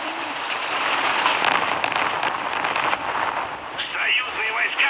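Bombs burst during a War Thunder tank match, giving repeated crackling booms over dense, noisy battle sound. Short tonal game signals come near the end.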